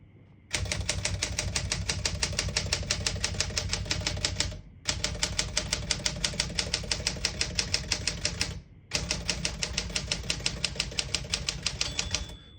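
Rapid, steady keystrokes on a vintage portable typewriter, close and loud, running in three continuous bursts separated by short pauses with no talk.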